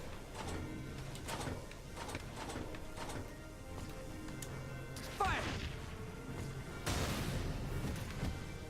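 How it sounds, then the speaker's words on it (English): Mortar fire in the Valkyria Chronicles 4 video game: a burst of sharp impacts and crashing blasts at mid level over game background noise, with a heavier explosion partway through and another later. "Actually, I'm going to have to mortar these."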